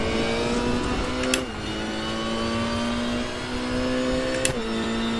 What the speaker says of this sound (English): I'm going to let you guys enjoy the sounds of RaceRoom